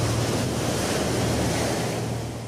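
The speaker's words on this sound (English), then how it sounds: "they can generate killer waves called tsunamis." Ocean waves in a tsunami setting make a steady, loud, wind-blown roar of surf that continues unbroken throughout, with no voices.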